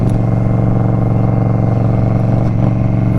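A 2023 Indian Scout Rogue motorcycle engine idles with a deep, throaty rumble from loud GP Shorty aftermarket exhaust pipes, steady and close, with a brief blip of revving near the end.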